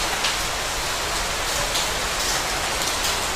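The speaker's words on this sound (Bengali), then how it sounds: "বাইরে কি সুন্দর বৃষ্টি হচ্ছে।" Rain falls outside in a dense, even hiss of countless drops, loud and close with no pauses and no voices.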